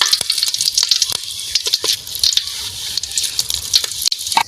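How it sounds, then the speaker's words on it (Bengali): Cumin seeds tempering in hot oil alongside dried red chillies, bay leaves, cinnamon and cardamom for a country chicken curry, giving a steady close crackling sizzle with scattered sharp pops and spits. "জিরে ফোড়ন।"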